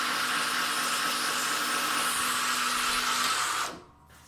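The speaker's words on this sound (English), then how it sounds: "We'll typically do this with about a 36 grit belt so that it has, pretty good biting power for that epoxy." A belt grinder with a coarse 36 grit belt scratches a knife tang, giving a steady abrasive whir that runs evenly and then cuts off abruptly near the end.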